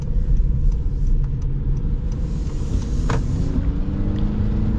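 A 2025 Honda CR-V Hybrid accelerating, heard from inside as a steady low engine and road rumble that holds fairly level throughout, with no talking.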